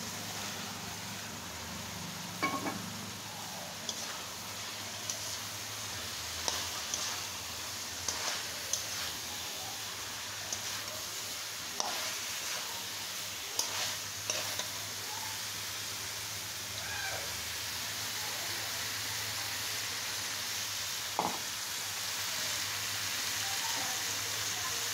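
Cauliflower frying in oil in a pan, a soft continuous sizzle with scattered small pops and clicks throughout, quiet and steady with no one talking.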